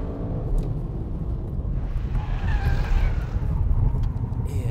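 An Audi RS 6 Avant or BMW M5 Competition engine drones loudly and steadily on a track during a timed lap, pitch rising and shifting across the run, with a faint tire squeal toward the middle.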